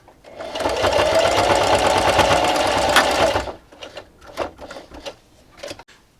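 A sewing machine stitches a scrappy fabric dish scrubber in one loud, steady, close burst of about three and a half seconds, then stops, leaving a few soft handling clicks.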